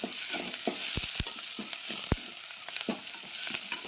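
Onions fry in a pan with a steady, close sizzle, broken by sharp clicks and scrapes of stirring at irregular moments; no voices.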